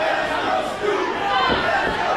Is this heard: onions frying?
no